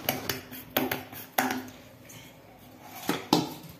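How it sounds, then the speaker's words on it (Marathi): Metal kitchenware clatters on a gas stove as a pan is set down, giving a few sharp, fairly quiet knocks and clinks spaced over several seconds, with no talk. "गॅसवर आपण पॅन ठेवलेला आहे"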